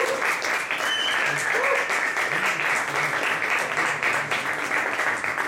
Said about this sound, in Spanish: quiero que reciban con un fuerte aplauso